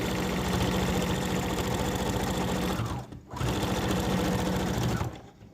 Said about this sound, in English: we're going to fold this over about 1/2 inch, and we're going to sew close to the edge here